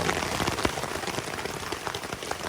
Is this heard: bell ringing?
no